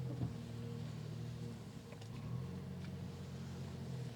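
Nissan Frontier in four-wheel high climbing a slick, muddy hill, its engine droning steadily at moderate revs with a low, fairly faint rumble and a brief surge midway.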